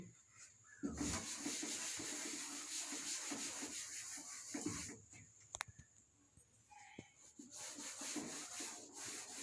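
Writing is rubbed off a classroom board. The wiping comes as repeated soft scrubbing strokes in faint bursts, with short pauses and a few light knocks.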